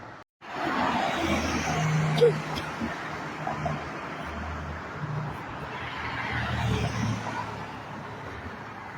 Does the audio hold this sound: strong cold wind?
no